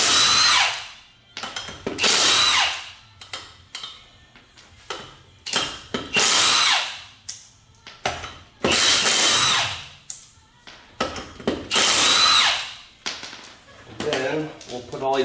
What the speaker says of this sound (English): Just breaking torque, and then we can finish spinning them off. With an impact, it makes it nice and easy.